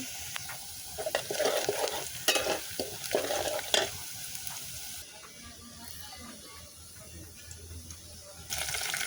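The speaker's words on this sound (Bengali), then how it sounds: "তো আমার পেঁয়াজ রসুন ভাজা হয়ে গেছে," Onion and garlic fry in a pan for a leafy greens dish, with busy stirring clatter and sizzle over the first few seconds, then a softer, steadier hiss with faint running water.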